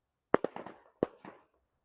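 Firecrackers bursting at a Basant Panchami kite festival: a sharp close bang followed by a quick run of crackling pops, a pause, then a second burst trailing into smaller cracks, with no talk.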